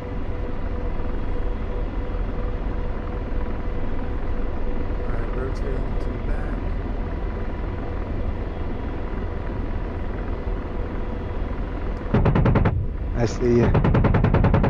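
Apache attack helicopter 30mm cannon fire in the DCS World combat flight game, a steady rotor and engine drone underlying everything with a short rapid burst of cannon fire near the end, while players talk over it.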